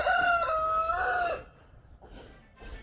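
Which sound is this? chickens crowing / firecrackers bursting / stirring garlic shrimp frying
chickens crowing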